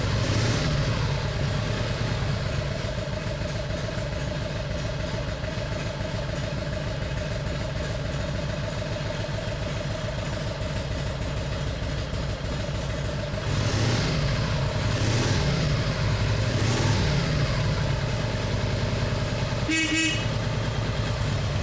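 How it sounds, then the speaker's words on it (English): A 1948 Harley-Davidson Panhead motorcycle engine idles steadily and fairly loud after a kick start, its low rhythmic thump continuing unbroken with a few brief revs near the end. "1948 Harley-Davidson solo seat. We're going to be firing this thing up for you right now."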